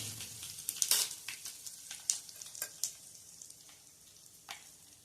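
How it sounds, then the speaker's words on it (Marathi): Cumin, asafoetida and two byadgi chillies crackle in hot oil as a tempering for raw-mango dal, giving a steady close sizzle broken by sharp pops and spits, with no voices. "मी हे 2 बॅडगी मिरची ह्या फोडणीत घालते"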